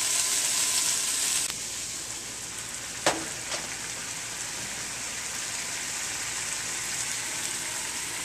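Beef sizzles in a pan with coconut milk, a steady close hiss like rain, with a brief stirring clink around the middle and no talk.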